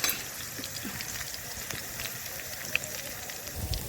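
Chopped garlic and green chillies fry in hot oil in a kadai over black cumin seeds, giving a soft, steady, close sizzle with no voices.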